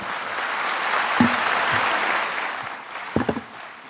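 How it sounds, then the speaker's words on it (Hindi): Audience applause welcoming the chief guest at an Ashoka-themed gathering at Kailash Hill, Delhi NCR: a sustained moderate patter of clapping from a seated crowd, a few sharper nearby claps near the end. "जोरदार तालियों से स्वागत।"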